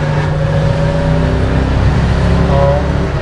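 A vintage Tatra 603 car with a 100-horsepower engine runs loud and close, a steady, dense mechanical drone that holds evenly throughout with no voices over it.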